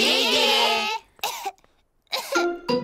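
A wet, harsh cartoon cough from Peppa Pig bursts out in a few quick hacks, then pauses before two more short coughs, loud and close.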